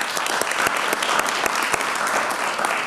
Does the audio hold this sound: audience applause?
yes